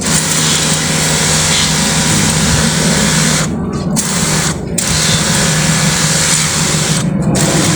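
A rechargeable sprayer spraying weeds outdoors gives a loud, steady motorized whir and hiss, broken by three brief gaps in the spray.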